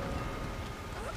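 Heavy rain in the horror video game Dead by Daylight pours as a steady, dense hiss, continuous and even throughout the short stretch.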